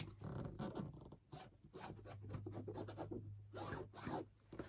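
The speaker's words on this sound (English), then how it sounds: "Draw my line from corner to corner on this block." A pen or marker is drawn across a quilt block from corner to corner, giving close, dry scratching strokes in several short bursts with small pauses between them.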